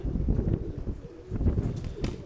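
A flock of pigeons over a house, with soft cooing and wing flutter mixed into steady outdoor wind rumble close to the microphone.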